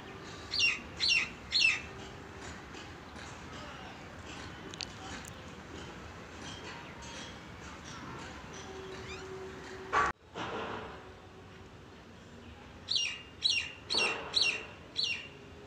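Two myna birds sing in a series of bright, repeated chirping phrases, in clusters at the start and again near the end, with a sharp knock midway and a quiet outdoor background between.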